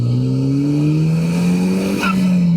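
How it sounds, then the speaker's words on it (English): A 2021 Ariel Atom accelerates hard along a twisty road, its engine note rising steadily in a loud, close drone with a brief tire chirp near the end and no talking. "you put your foot down and then the car goes"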